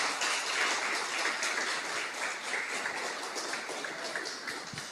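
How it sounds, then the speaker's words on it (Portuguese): Church congregation applauding with steady, dense clapping that fills the room, fairly loud and continuous throughout, with no speech over it. "Palmas bem alegres para Jesus."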